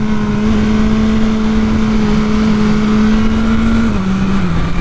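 Steady, close engine drone from a 2022 BMW S1000R Sport motorcycle under way, a sustained tone holding level and dipping slightly near the end, with broad wind and road rush throughout and no talk.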